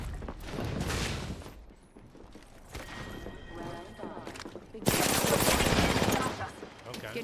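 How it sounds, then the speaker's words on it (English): Gunfire in the Apex Legends battle royale on the Olympus map, bursts of shots mixed with game sounds, heaviest in a dense loud stretch near the end, with a voice speaking at times. "Getting shot at."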